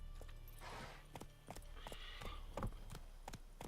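Horse hooves clip-clop at a steady riding pace in The Witcher 3, crisp, distinct hoofbeats with faint trotting in the background, heard at low volume.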